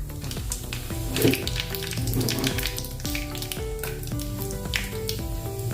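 Cumin seeds, mustard seeds and a bay leaf crackle and sizzle in hot oil with steady popping spurts, heard under background music.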